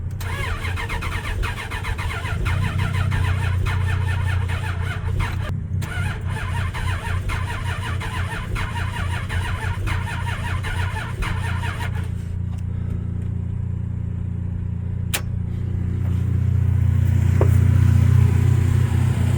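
A Magnum-swapped Dodge Dakota, jumped from another car after a dead battery and with one spark plug out, cranks in a long steady churning run, stalls, then catches and settles into a rough, uneven idle, close and loud.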